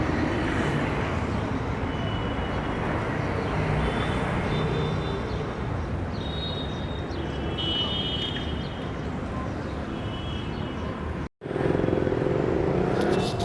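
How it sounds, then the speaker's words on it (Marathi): Steady roar of passing buses and cars on the Kalyan-Ahmednagar highway, a continuous broadband rumble heard from the roadside with a brief drop near the end, and a voice talking over it. "हा समोरचा जो रोड दिसतोय तो कल्याण अहमदनगर हायवे आहे या ठिकाणावरनं बघा बसेसची वाहतूक वगैरे चालू आहे"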